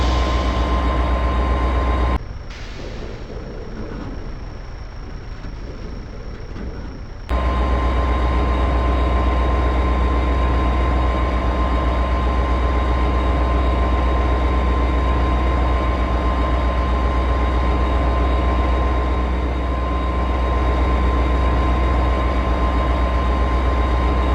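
A MARC Penn Line train in a train simulator game rumbles steadily, with a deep engine drone and a constant hum that carry through the whole stretch. A brief duller passage comes early before the full running sound returns.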